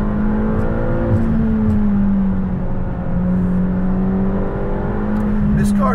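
A 2020 McLaren GT with the optional sports exhaust drones steadily from inside the cabin while driving, a smooth, fairly subdued engine hum with a slight rise and fall in pitch and no talk.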